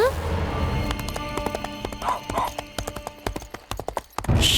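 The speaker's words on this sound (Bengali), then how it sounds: "হঠাৎ এই ঘোড়ার পায়ের আওয়াজ কোথা থেকে আসছে?" Horse hoofbeats clip-clop in a steady rhythm from a lane at night, moderately loud beneath a dense layer of other sound, with a brief whinny-like cry and no speech.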